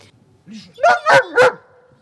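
Six-year-old German shepherd barks three times in quick succession, loud and close, after a short soft whine, with quiet surroundings.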